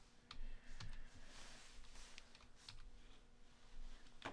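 Keyboard shortcuts typed on a computer keyboard: a few quick, separate key clicks and taps close by, scattered over a few seconds with no speech.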